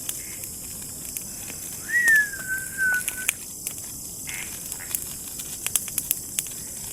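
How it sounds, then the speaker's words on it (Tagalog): An outdoor bird gives a single clear, rising whistled call that lasts about a second, moderately near, over a quiet background of steady hiss and scattered small clicks. "Ibon na tumutunog."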